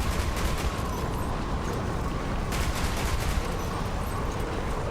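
Rapid, dense gunfire from a video game shooter rattles continuously and loudly with no pause, the shots blurring into a steady roar.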